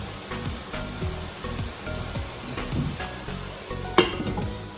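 Potatoes and steak for bistec ranchero sizzling and frying in a covered pan over medium heat, a steady close crackle with occasional louder pops and a few stirring clatters.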